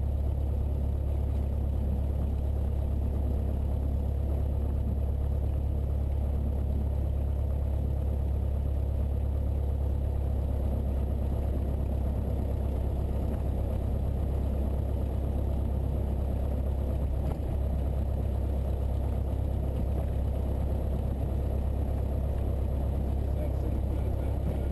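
A Cessna 172 engine hums steadily at low pitch as the throttle is brought back during touch-and-go practice, a continuous drone inside the cockpit with voices talking over it.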